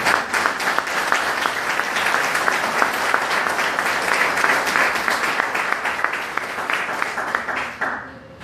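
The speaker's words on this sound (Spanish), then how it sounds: "Levanta tu mejor aplauso al Señor en esta mañana" A church congregation applauds steadily during a Spanish-language service, dense clapping filling the space at a constant level before fading out at the very end.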